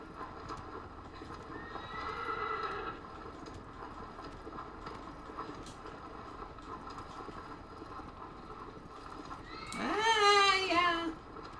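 A horse in the video game Shadow of the Colossus gives a brief whinny early on, then a louder, longer neigh near the end, with a faint background hum and hoof sounds in between.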